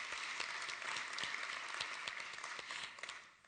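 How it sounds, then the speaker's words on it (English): Soft, even clapping comes from a conference audience at the closing plenary of a global festival of ideas for sustainable development, heard at a distance as a steady wash that tapers off slightly at the end. "yeah, we'll clap for that as well."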